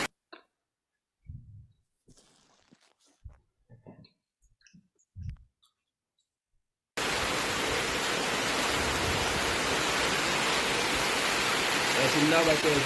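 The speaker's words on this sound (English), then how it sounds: "You hear the sound of the rain." Steady rain falls outside during a thunderstorm, a dense even hiss that starts abruptly and continues loud and close for several seconds, after scattered quiet clicks and knocks.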